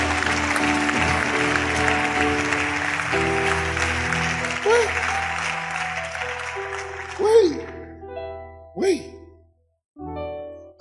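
A church congregation applauds and cheers to praise God, a broad wash of clapping that fades out, with a voice speaking over it and a few later shouts.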